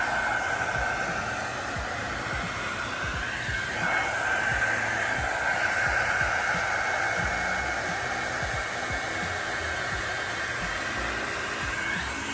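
A Revlon One Step Blowdry Plus hair dryer running on its low heat setting gives a steady, close whirring rush of air that holds even and unbroken for about twelve seconds, with no talking.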